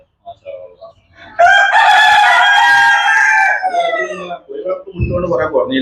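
A rooster crows loudly and close by in one long, drawn-out call, followed by short clucking from chickens.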